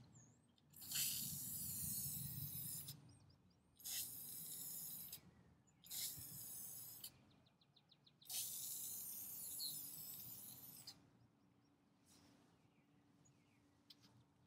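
An aerosol can spray-paints a rusty ash tray outdoors in four or five hissing bursts of one to three seconds each, separated by brief pauses, close and fairly steady, with no talking.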